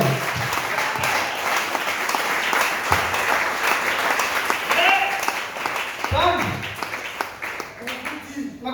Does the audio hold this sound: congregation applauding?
yes